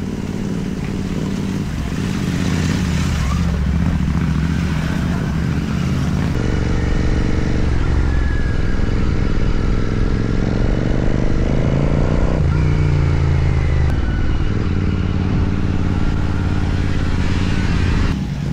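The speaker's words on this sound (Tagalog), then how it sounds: "So ito yung gamit naming motor, tag-iisa kami." A motorcycle engine drones continuously at close range, its pitch shifting as the rider speeds up and slows down, in Dingalan, Aurora.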